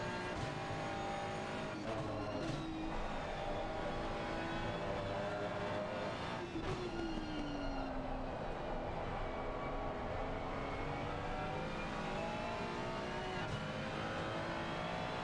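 Lamborghini and Ferrari race cars in a racing game at the Hungaroring, engines droning steadily along the straight with rising and falling pitch as they run close together.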